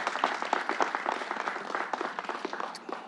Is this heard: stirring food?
no